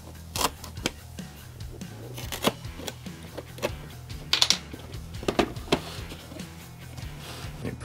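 A razor blade slices sticky packing tape off a Star Wars lightsaber box, giving a series of sharp clicks and scratchy cuts, close and fairly loud, with quiet handling sounds between them.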